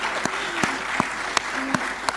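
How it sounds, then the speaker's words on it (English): Hall applause for Dr. Ramana Reddy at the Bengaluru skills summit, a steady roar of many hands clapping with a few sharper claps standing out above it. "Give a round of applause to him. Big round of applause."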